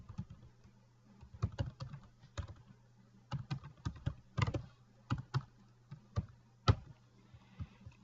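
Keys clatter on a computer keyboard in short irregular bursts of taps and pauses, close and fairly quiet over a low steady hum.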